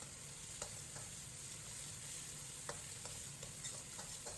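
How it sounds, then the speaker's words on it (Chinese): Chilies, pickled peppers and fermented black beans stir-fried in hot lard with garlic and ginger over medium heat, a steady close sizzle with scattered light scraping clicks from the spatula, no voices. "放入小米辣、泡椒、豆豉，继续开中火炒出香味"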